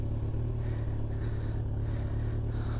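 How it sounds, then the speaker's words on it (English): A vehicle crawls up a rock-strewn road with its front wheel slipping. A loud, steady low engine rumble carries on without a break, and no one speaks. "Front wheel is slipping, so I'll depend on the rear wheel."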